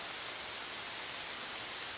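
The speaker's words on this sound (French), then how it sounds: "je sais pas si vous entendez là, mais il pleut à mort." Heavy rain pours steadily on a forest, a dense, even hiss of countless drops with no let-up, close and enveloping, no voices.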